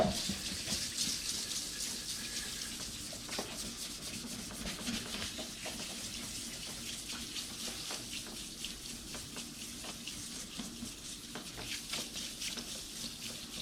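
Car headlight lens wet sanded by hand with 2000 grit sandpaper and cleaning solution, a close, steady rhythmic scrubbing of repeated rubbing strokes with no talk.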